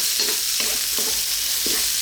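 Pork sizzles steadily in a hot pan with sautéed garlic and onion, while a few soft stirring scrapes rise briefly over the constant frying hiss.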